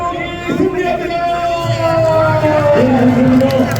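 A large crowd at an outdoor presidential election-eve rally in a station square cheers and shouts continuously, loud and sustained, with raised voices calling out over the roar.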